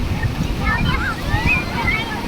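Ocean waves wash and rumble at a beach, mixed with gusty wind buffeting the microphone, while a voice talks over the surf.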